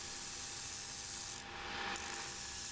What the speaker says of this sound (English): grind a bit off until the shape appeals to my eye